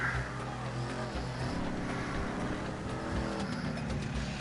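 Car engine in a PS4 open-world video game, a steady continuous motor drone with a faint tyre squeal, filling the whole stretch at moderate level.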